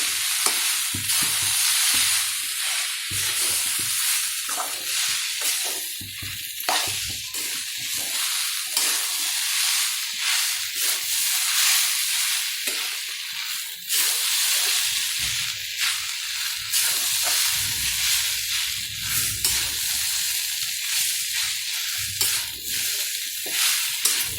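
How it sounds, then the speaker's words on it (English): Sweet potato khichadi sizzles and hisses in a hot pan while being stirred, a steady bright frying crackle with soft scraping strokes of the spoon running throughout, close and continuous. "we have to stir it carefully"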